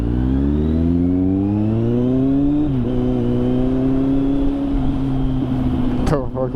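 A Kawasaki ZX6R sport bike accelerates hard with a loud, rising engine note that climbs through the rev range, shifts briefly, then holds high before a sharp clatter near the end, as a rider talks excitedly over it.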